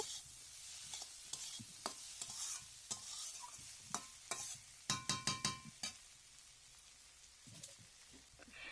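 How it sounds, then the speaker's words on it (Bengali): Fried potatoes stirred into a vegetarian banana stem curry, a quiet sizzle under sharp, irregular scrapes and clinks of a spoon against the pan, with a quick burst of strokes midway. "আলুগুলো দেওয়ার পরও আমি এটা ভালো করে কিছুক্ষণ নেড়ে নেব।"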